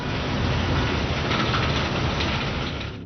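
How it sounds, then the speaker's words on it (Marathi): Heavy monsoon rain pours down steadily over Naigaon taluka in Nanded, Maharashtra, during flooding, a loud dense continuous wash with no talk. "नायगाव तालुक्यात रात्रीपासूनच जे आहे ते मुसळधार पाऊस या ठिकाणी बरसत आहे"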